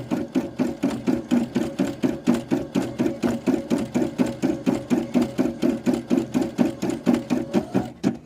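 A Brother SE600 embroidery machine stitches in a steady, fast rhythmic chatter, the needle strikes even and continuous and close to the microphone, with no talking.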